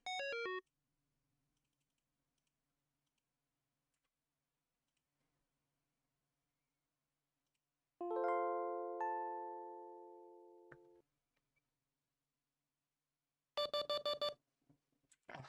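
Alerts from VCCS air traffic control software ring out in short bursts: a quick descending run of electronic beeps, then a longer sustained chime that fades, and later a rapid repeated ringing pattern, separated by silence.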